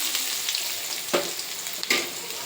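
Onions fry in oil with a continuous close sizzle, punctuated by a couple of sharp stirring scrapes.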